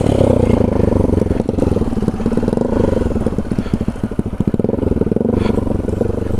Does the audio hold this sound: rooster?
no